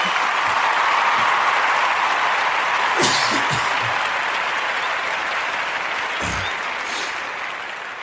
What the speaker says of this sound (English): Let's make some noise.